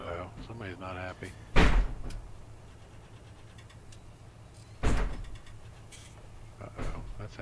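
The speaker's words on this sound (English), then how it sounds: "Slamming door repeatedly." Door slamming repeatedly in the survival game 7 Days To Die: two loud, heavy slams land a few seconds apart over a steady background hum.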